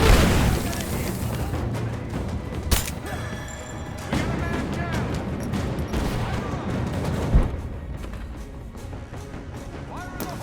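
Grenade explosions and gunfire fill a firefight in Rise of the Tomb Raider, with dense bursts of shots and a couple of heavy booms standing out over a loud, continuous battle din.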